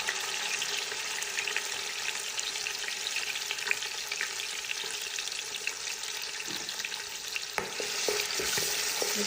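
Chicken being stirred with tomato paste in a frying pan, a steady close sizzle running throughout with scraping and clinking of the utensil toward the end, no talk.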